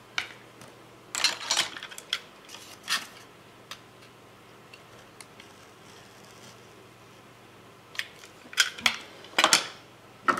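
Scissors snipping an elastic band for a pen holder, with sharp isolated clicks and cuts scattered across a quiet stretch, clustered at the start and end, close and crisp with no speech.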